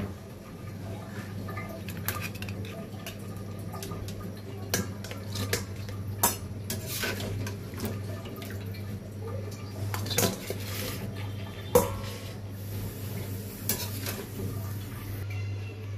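Boiled eggs and potatoes lifted out of a pot, with a series of sharp metallic clinks and clatters of a utensil against the pot over a steady low hum, fairly quiet.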